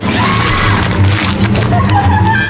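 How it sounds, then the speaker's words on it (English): A glass skylight shatters loudly as lamprey creatures crash through it in a monster film, a dense burst of breaking glass with tinkling debris over a low rumbling score. "Lampreys appeared on the skylight and broke through the glass, falling into the room."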